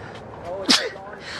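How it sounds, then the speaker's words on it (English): A single sharp sneeze bursts out close by, loud and brief, amid quiet outdoor ambience in a corn maze. "I'm gonna sneeze."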